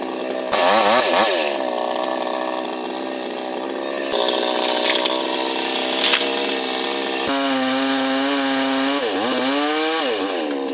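A chainsaw roars loudly and continuously, its engine pitch rising and dipping as it bites into the wood of an old tamarind tree.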